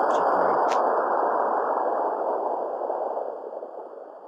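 A hiss-type radio wave recorded by the Cluster satellite, converted into sound, plays as a steady, noisy rushing hiss with faint short tones at the start, gradually fading toward the end.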